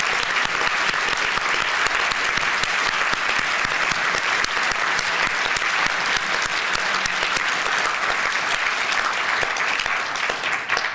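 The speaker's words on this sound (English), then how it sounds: "let's have one more round of applause" Sustained applause fills a hall at the 2010 SFU Outstanding Alumni Awards gala for the award recipients, dense even clapping from a large audience, loud and continuous throughout.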